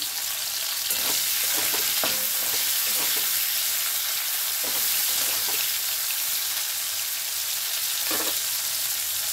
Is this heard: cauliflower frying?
yes